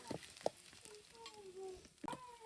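Shallots and chillies frying in hot oil, a soft steady sizzle with a few sharp clattering stirs at the start and near the end.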